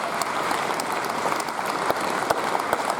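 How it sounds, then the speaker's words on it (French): Steady applause from a union convention audience, a moderately loud wash of many hands with a few sharper individual claps standing out, no voices over it. "Je prends vos applaudissements"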